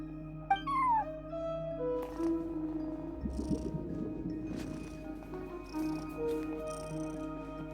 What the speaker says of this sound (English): cat watching over the front desk. Excuse... meow?